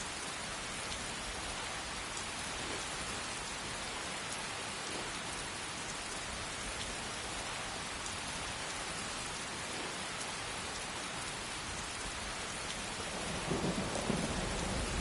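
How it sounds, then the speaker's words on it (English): Steady heavy rain hisses across the whole stretch in a Skyrim thunderstorm, with low thunder rumbling underneath and swelling louder near the end. "Oh my god, it's raining."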